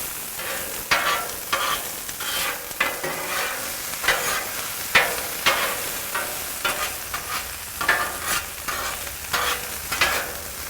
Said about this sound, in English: And I'm going to be getting the onions mixed in with the chorizo here. Get them going first.